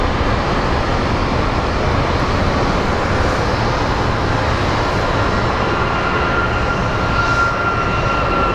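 An Airbus A321neo airliner rolls out at Phoenix Sky Harbor airport, a loud, continuous broadband engine roar that stays steady and close throughout with no talk.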